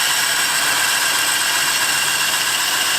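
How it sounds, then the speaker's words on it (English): A sander works a custom side-exit exhaust pipe for a VW Touareg, a loud, continuous, close-up grinding roar with no break. "Have a sander."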